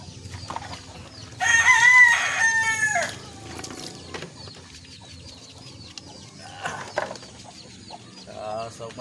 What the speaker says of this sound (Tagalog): Itong pagpapakain sa ating mga alagang manok